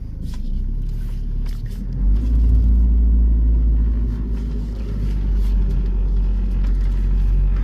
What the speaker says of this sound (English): for a car that really doesn't have any idle control hooked up, you know, it's doing okay